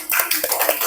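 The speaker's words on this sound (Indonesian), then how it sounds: "Tepuk tangan dong untuk teman-teman kalian yang sudah berusaha" Classroom students clapping for their classmates, a quick burst of scattered hand claps filling about a second, fairly close and moderately loud with no voices on top.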